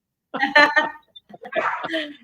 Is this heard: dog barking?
yes